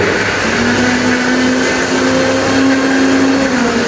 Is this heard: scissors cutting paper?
no